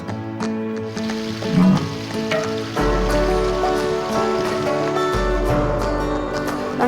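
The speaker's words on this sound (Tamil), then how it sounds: "வெங்காயம் தக்காளி நல்லா வதங்குதுங்க." Onions and tomatoes sautéing in a large pot for a 10 kg chicken dum biryani, a dense continuous sizzle with scattered crackles and occasional stirring clatter, close and fairly loud.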